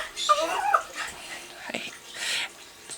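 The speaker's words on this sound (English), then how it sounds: "dog going crazy. She sees the cat" An excited dog whines and yips at a cat indoors, a string of high whimpers and short yelps with panting, close and fairly loud.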